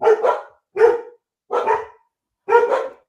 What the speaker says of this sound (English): Dogs barking in the house.